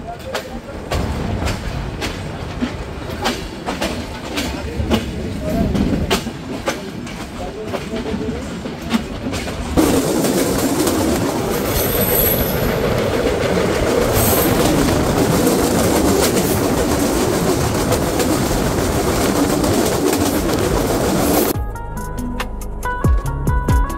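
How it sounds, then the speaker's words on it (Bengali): The Kapotaksha Express (716) rumbles steadily along the rails with a dense, continuous roar and rattling carriage noise, heard from inside the rocking train, changing tone partway through and cutting off near the end. "ট্রেনটি ছাড়ার পর থেকে ট্রেনটি এতটা পরিমাণ দুলছে যে নিজেকে কন্ট্রোল করাই কষ্ট হয়ে যাচ্ছে"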